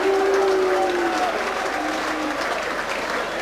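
Argyle football fans applaud their Plymouth Argyle players at a home win over York City, a dense, steady roar of clapping from a large stadium crowd, with a faint whistle-like tone drifting over it.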